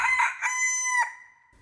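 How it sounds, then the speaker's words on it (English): A cockerel perched on a beam gives a single loud, close cock-a-doodle-doo lasting about a second, rising then holding a bright tone before cutting off, with no other sound around it. "The cockerel too, which had been awakened by the noise, and had become lively, cried down from the beam"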